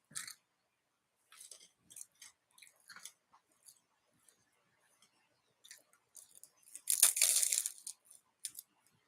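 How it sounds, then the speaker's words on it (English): Crunchy garlic bread on a baguette is chewed in scattered bites. Sharp crackling crunches come in short bursts with quiet pauses, building to one louder, longer crunch near the end. "Garlic bread's crunchy as all hell."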